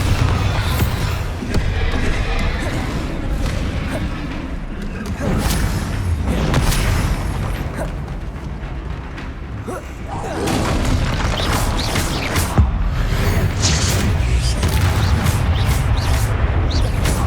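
Booming Bombarda spell blasts and other combat effects in Hogwarts Legacy, repeated loud explosions and crashes over a dense game soundscape, with a character's voice calling out spells.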